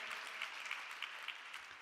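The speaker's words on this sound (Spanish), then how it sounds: "Dale un aplauso fuerte al Señor." A church congregation claps together for the Lord in a quick, steady patter that sounds somewhat distant and faint, lasting under two seconds.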